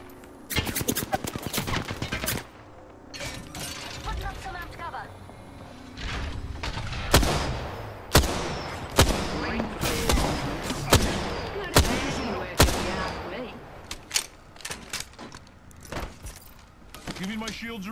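Gunfire in a battle royale video game, with repeated sharp shots and bursts in uneven rhythm, close and loud, mixed with game effects while players talk over it.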